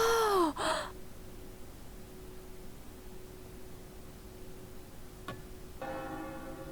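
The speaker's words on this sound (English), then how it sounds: "And the bells are ringing." Bells ring in the video game Another Code: Recollection, with a single bright strike followed by a sustained ringing tone over a soft background hiss, after a short breathy gasp at the start.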